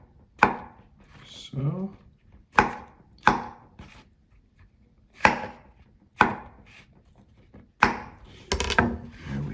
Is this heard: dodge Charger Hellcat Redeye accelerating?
no